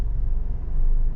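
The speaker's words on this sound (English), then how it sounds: "hopefully you can hear that there's a lot of shaking going on in this car" A Jeep with a bad motor mount shakes while idling in reverse gear, giving a steady, close, low rumbling vibration through the cabin with no other sounds.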